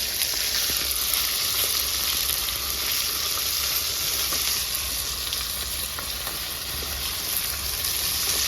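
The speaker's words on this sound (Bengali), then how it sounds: "এদিকে মাছ ভাজা হচ্ছে" Fish fries in hot oil, giving a steady, dense sizzle that carries evenly from start to finish, close and fairly loud with no voices.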